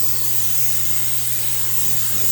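Steady continuous hiss of aerosol cooking spray, held without pause against a faint low hum, with no talking.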